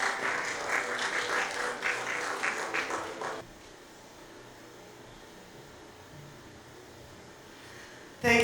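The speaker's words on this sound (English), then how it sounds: "Please give them a round of applause" A burst of audience applause for conference panelists in Dubai, moderately loud and dense for about three seconds, then cutting off abruptly to quiet room hum.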